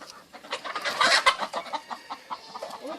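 A flock of backyard chickens clucks busily nearby, producing a dense stream of rapid, overlapping calls that peak in a louder burst before settling into steady repeated clucking.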